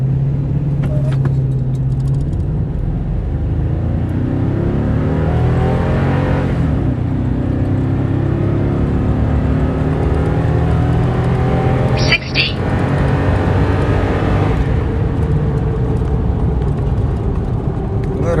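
A tuned Toyota Tundra pickup launches on a 0-60 mph run, its engine roaring loudly from inside the cab and climbing through several gear changes with brief dips between shifts, over constant road rumble.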